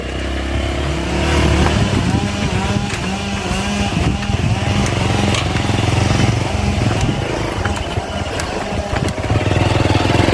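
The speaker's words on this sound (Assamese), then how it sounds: "চল অফৰোডিং বাইক ভাই" An off-road motorcycle engine runs loud and close on a hillside track, a continuous rough throbbing drone with slight rises in revs throughout and no pauses.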